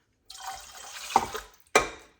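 Water is poured into a bowl of spaetzle batter made with egg yolks and duck eggs, a short close splashing pour followed by a second brief splash, with no talking.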